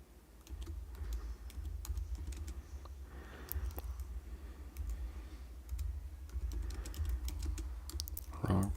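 Fingers type a git commit command on a computer keyboard, producing a quick, uneven run of close, light key clicks with short pauses, over a faint background hum.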